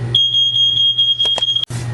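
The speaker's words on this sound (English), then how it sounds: "we accidentally set off the smoke detector" A smoke detector set off while egg rolls are cooking shrills a loud, continuous high-pitched alarm tone over a kitchen hum, cutting out abruptly near the end.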